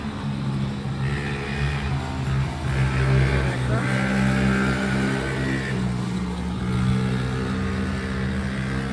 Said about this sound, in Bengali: গাড়ি ঘোড়ার আওয়াজ আসে ঠিক কথাই